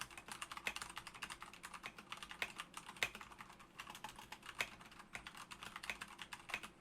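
Typing on a mechanical keyboard with Cherry MX Brown tactile switches, a quiet continuous patter of rapid clicky keystrokes with occasional heavier key hits, picked up by a desk microphone.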